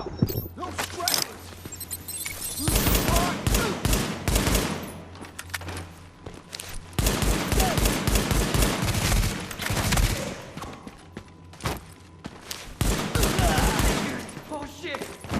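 Rapid bursts of gunfire in Tom Clancy's The Division, loud clattering volleys in repeated waves with short pauses, voices shouting between them.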